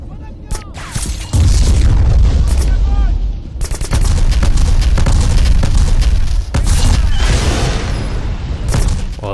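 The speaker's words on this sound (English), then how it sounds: "You can hear the suppressors." Suppressed gunfire in a first-person shooter game: dense, loud bursts of muffled shots and booming impacts fill most of the stretch, with a brief lull before the firing resumes.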